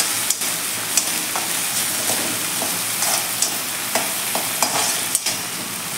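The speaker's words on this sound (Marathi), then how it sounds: "या पद्धतीने आपण डाळ देखील 1 मिनिटभर त्याच्यामध्ये फ्राय करून घेऊया।" Dal frying in oil in a pan for a methi bhaji, a steady sizzle punctuated by regular scraping clicks of a spoon stirring, close and without talk.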